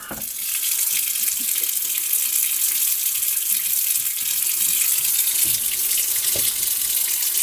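Tap water runs steadily into a previously clogged sink drain after the pipe fittings were tightened, a continuous close splashing flow that starts within the first half second and holds even throughout.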